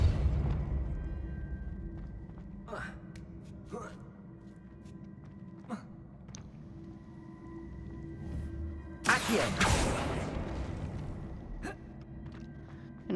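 A Depulso spell effect in the Hogwarts Legacy video game: a short forceful burst near the end, over quiet game ambience with a few faint clicks and a brief vocal gasp.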